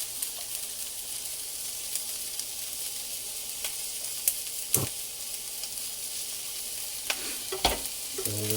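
Vegetables fry on a stovetop pan with a steady, close hiss of sizzling, broken by a few sharp clicks and scrapes of stirring, with no talk.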